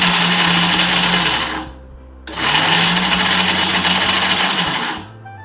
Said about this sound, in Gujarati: તો મેં આ નાની જાર લીધી છે અને એમાં બધું નાખી દઈએ હવે મિક્સ કરી લીધું